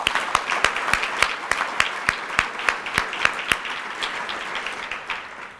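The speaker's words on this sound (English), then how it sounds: "Another round of applause for them," An audience at a teachers' awards program applauds, with a few loud, distinct near claps standing out rhythmically over a softer crowd of clapping that gradually thins.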